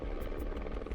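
A search and rescue helicopter flies past with a steady, loud rotor thrum and engine drone that holds continuously for about a second.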